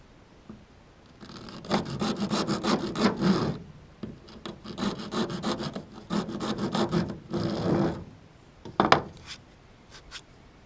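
Rasping, sawing scrapes as holes are cut into a plastic jug and funnel for a homemade wasp trap, in long rhythmic bursts with pauses and a sharp knock near the end, no talk.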